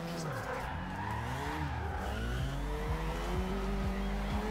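A Mazda RX-7 engine revving hard in the video game Forza Horizon 2 as tires squeal and spin continuously, a loud, sustained whine that shifts in pitch with no pauses.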